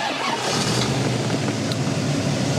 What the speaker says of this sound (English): So I'm about to start the engine, here we go.